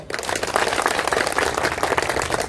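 An audience at a political meeting claps loudly and steadily for a short stretch, a dense wash of hand claps with no talk.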